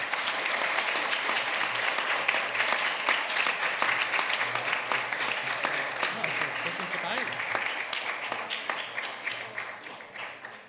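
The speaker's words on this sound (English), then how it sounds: "Give yourselves a round of applause." Sustained applause from the audience at a climate action conference debate: a thick, even roar of many hands clapping that carries on for about ten seconds before gradually tapering off at the end.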